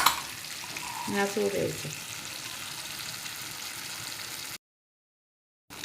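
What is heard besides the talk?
spices and ground peanuts frying in pan for stuffed brinjal masala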